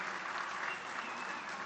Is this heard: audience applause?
yes